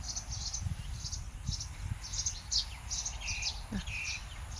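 Small birds chirp in quick, repeated bursts outdoors, with soft rustling and low background noise underneath.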